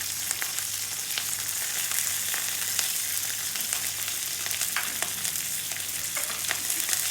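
Grated ginger, green chillies and curry leaves sizzle in hot oil for black urad dal, a bright continuous crackle with sharp pops and the occasional scrape of stirring, close up and with no voices.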